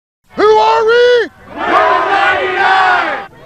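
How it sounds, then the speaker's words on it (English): Protesters marching through the streets of downtown Portland in an Occupy demonstration chant loudly in unison, with two short call phrases followed by a longer, louder crowd response ringing out nearby. "A vocal crowd of protesters took over the streets of downtown Portland."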